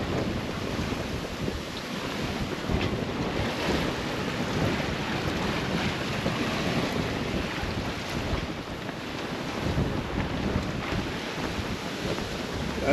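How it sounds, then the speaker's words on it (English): Steady wind rushing over the microphone and waves washing past a sailboat under way in about 18 to 20 knots of breeze in the Virgin Islands, loud and continuous with no voices. "The wind's picked up, got more like about 18 to 20 now."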